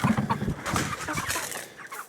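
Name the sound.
Easter egger Araucana mix chickens clucking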